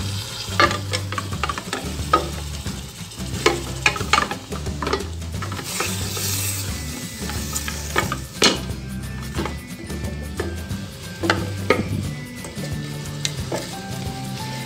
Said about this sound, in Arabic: ها هي حطيناها تشحر